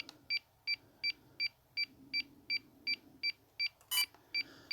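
A DJI drone pairing with its remote gives a series of short, evenly spaced electronic beeps, about eleven in a row, fairly clear over a quiet background hum.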